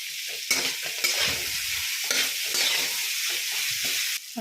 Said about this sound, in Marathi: छान असा कांदा आता मी परतून घेते